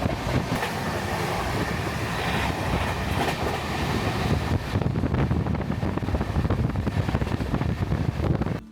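Saraighat Express AC train runs at speed through Shaktigarh station, a loud, steady rumble and clatter of wheels on rails with wind buffeting, sustained throughout with no talk.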